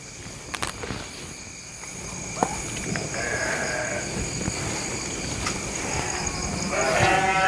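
Goats bleat near a small stream on a rural footpath, giving a few short cries against quiet outdoor ambience with light footsteps and faint rustling, growing slightly busier toward the end.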